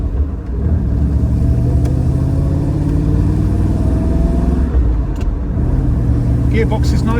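A 1972 Triumph Stag Mk1 with a 3.0 engine and manual overdrive gearbox accelerates from inside the cabin, a steady loud engine drone climbing in pitch through the gears, with rattly wheel trims faintly audible and someone speaking now and then over it.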